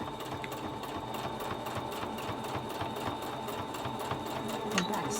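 A sewing machine runs continuously, stitching a pleated fabric face mask with interfacing; a steady, fairly quiet rhythmic needle chatter fills the whole span without a pause.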